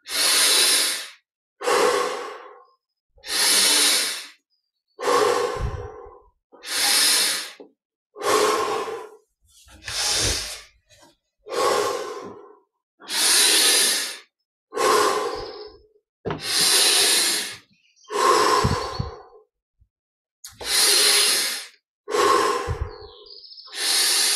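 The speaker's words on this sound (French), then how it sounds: "20 respirations profondes. Inspire par le nez. Expire par la bouche." About a dozen slow, deep breaths, drawn in through the nose and blown out through the mouth during a guided meditation, each a soft airy rush separated by clear pauses of quiet, close and alone.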